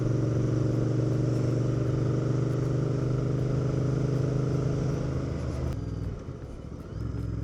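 A motorcycle on a ride holds a loud, even engine drone with a steady low hum, then eases off near the end as the note drops and roughens, with no talking.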